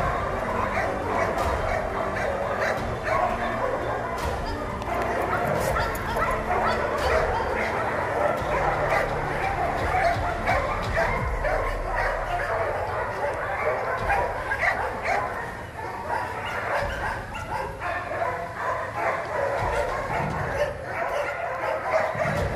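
A dog barks, yips and whimpers in short repeated bursts, fairly close, while people talk over it throughout.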